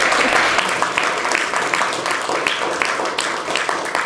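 A television studio audience applauds a guest's entrance with continuous, fairly loud clapping that stays even throughout and has no talk over it.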